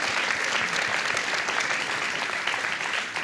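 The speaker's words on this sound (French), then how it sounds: "Ouais, bah oui, qu'on peut applaudir." Loud, dense audience applause during a French comedy talk show, continuous clapping from a studio crowd filling the whole stretch with no talk over it.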